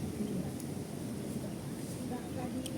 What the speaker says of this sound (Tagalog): Sobrang mahangin dito guys.